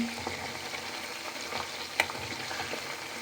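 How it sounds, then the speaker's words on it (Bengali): Milk cream (malai) frying down into ghee in a pan, a steady close bubbling sizzle with a faint stir or scrape partway through. "দুধের মালাই দিয়ে ঘি বানাচ্ছি"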